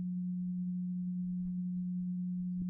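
Steady single sine tone from Mind Workstation's isochronic tone generator, set with no pulsing so it holds as one smooth, unbroken low hum at an even level throughout.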